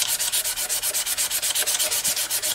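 Wood of a custom quilted mandolin is sanded by hand in steady rapid back-and-forth strokes, close and even, about eight strokes per second with no talk.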